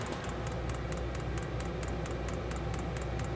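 A diesel heater's small fuel pump ticks rapidly and steadily in a workshop, with quick regular clicks over a constant background hum.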